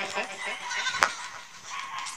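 A goat gives a single short bleat in a forest, faint and brief against quiet background noise.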